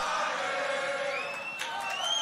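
At the Grand Beatbox Battle 2019 tag team final, a big crowd keeps up a loud, continuous chant and cheer, with a few higher whoops rising above the massed voices near the end.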